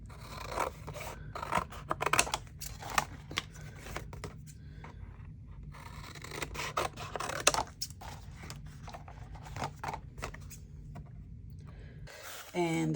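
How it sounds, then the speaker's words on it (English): Card stock being cut down by hand with scissors for a tri-fold latticework journal card: close, crisp snips in irregular bursts with papery scraping and rustling between cuts, and a faint voice now and then. "I'm going to go ahead and cut this down."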